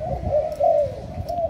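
Spotted doves cooing close by, a steady low hollow coo drawn out in a continuous tone, loud and clear with no talking.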